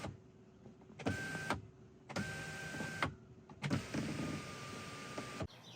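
Motorized electric sunroof shades in a Tesla Model Y whir as the electric motor runs in four separate bursts, each stopping abruptly, heard close up in a quiet cabin with no talking.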